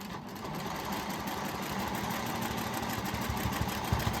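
A sewing machine quilting a scrap quilt hums steadily and close, with a fast, even needle rhythm that builds slightly toward the end, and no talking.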